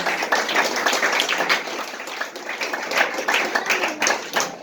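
An audience claps for performers returning to their places at a school celebration, the applause dense and fairly close, sustained with an irregular patter of individual claps throughout.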